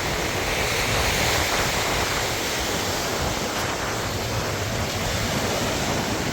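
Lake waves lapping along the shore at Northerly Island in Chicago, a steady broadband wash of water and surf with some wind noise, continuous and fairly loud with no talking.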